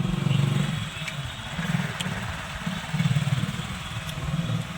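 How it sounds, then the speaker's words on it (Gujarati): Motorcycles ride along a road, their engines giving a close, pulsing low rumble that swells and eases in uneven waves, with no speech. "ત્રણ બાઇક લઈને જાવી છીએ."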